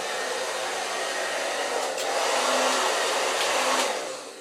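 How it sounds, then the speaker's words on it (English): Hair dryer on its cold setting blowing steadily to dry a wet hat, a continuous close whooshing roar that swells slightly midway and tapers off at the end, with no talking. "that's when we take the blow dryer. Got the blow dryer here."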